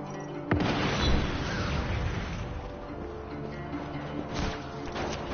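Deep booming explosions in the video game Just Cause 3, one big blast followed by rumbling and another burst later, with constant low roar beneath.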